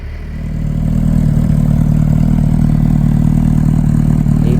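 A motorcycle with its stock exhaust pipes idles steadily and close by, a low even rumble with a mechanical clatter that holds at constant loudness after a brief rise at the start.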